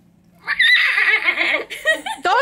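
A person vocally imitating a horse neigh, a bright wavering whinny that rises and trembles for about two seconds, loud and close, with a brief breathy laugh-like tail.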